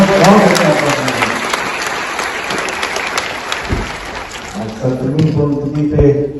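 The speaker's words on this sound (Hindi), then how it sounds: "मैं चाहता हूं बच्चों के लिए एक बार हम लोग सब बहुत जोरदार तालियां" An audience breaks into loud, sustained clapping for children after their performance, a dense wash of applause that thins toward the end while a voice begins speaking over it.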